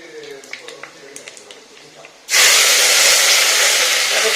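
Curry leaves and fenugreek seeds hit hot oil in a clay pot and break into a loud, sudden, steady sizzle that starts halfway through, after quieter kitchen clatter.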